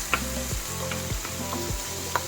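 Chicken breast sizzling in a pan alongside pork while cooking pancit canton, a steady fry hiss with a few clinks of stirring and scraping, close and fairly loud, no talking.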